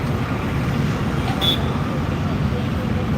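Steady road traffic beside a police recruitment ground in rural Solapur, a continuous low rumble of passing vehicles heard from nearby with no distinct individual cars standing out.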